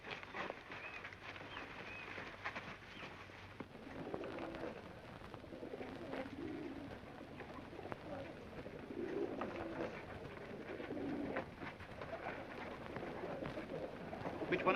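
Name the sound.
pigeons cooing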